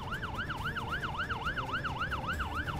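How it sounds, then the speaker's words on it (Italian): A cartoon fire truck siren wails in a steady, repeating up-and-down cycle, loud and continuous, over a busy low background of engine and music-like noise. "Sta arrivando anche il camion dei pompieri."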